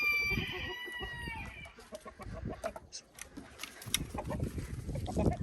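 Chickens cluck steadily throughout, with a rooster crowing early on, a lively farmyard chorus up close.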